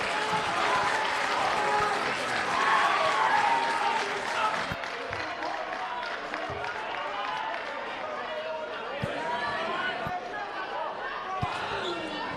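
Crowd noise fills a high school boys basketball gym, Morgan Huskies against Valley Regional Warriors, late in a close game: steady loud roar with applause, a swell early on, occasional sharp thumps and squeaks, voices mixed in throughout.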